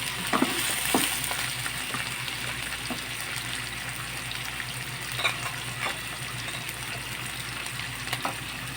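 Chopped liver and gizzard sizzle and fry steadily in a pan for chopsuey, with scattered clinks and stirring scrapes over the continuous crackle, close and moderately loud, no talking.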